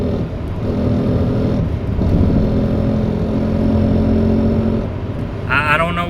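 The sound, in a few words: car engine given gas with strange sound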